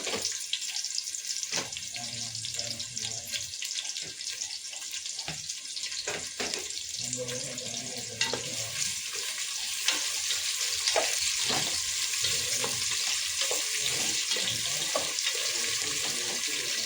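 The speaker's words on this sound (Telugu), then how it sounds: "ఇవి గోల్డెన్ బ్రౌన్ కలర్ వచ్చినంత వరకు ఫ్రై చేసేసుకోవాలి." Onions and green chillies fry in a pot for chicken biryani, giving a continuous close sizzle with scattered stirring clicks and scrapes.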